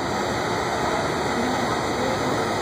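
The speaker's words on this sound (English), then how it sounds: "So then we use heat gun." A constant, even rush of blowing air from a heat gun running close by, heating a scored glass bottle for cutting, with no pauses or voices.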